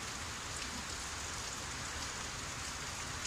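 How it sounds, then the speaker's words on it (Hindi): Heavy rain pours down steadily, a dense, even hiss of drops on surfaces with no pauses and no voices. "इतनी तेज़ बारिश आ रही है कि कुछ सुनाई भी नहीं दे रहा"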